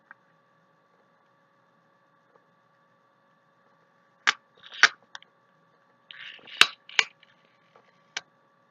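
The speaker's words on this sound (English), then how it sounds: "I was getting this piece of plastic off the setting powder." Plastic piece being pried and peeled off a setting powder container, a series of sharp close clicks and crinkly snaps clustered in two bursts against near silence.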